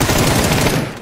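Rapid automatic gunfire rattles continuously, loud and close, as shots are fired at car tyres in the video game PUBG.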